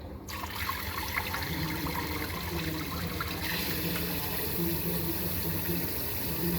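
Water runs steadily from a newly fitted attachment on a kitchen tap, giving a continuous close splashing and trickling flow throughout.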